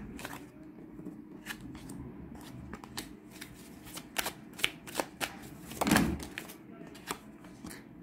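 Cards being shuffled and dealt during a tarot-style love reading, a soft papery riffle followed by scattered light slaps and taps as cards fall, close and quiet.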